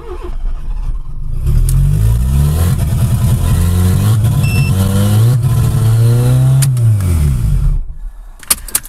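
A turbocharged 1.1-litre Fiat Seicento engine fires on its first start and revs hard and steadily, its loud, rising, rough drone held for about seven seconds before dropping away to a few clanks.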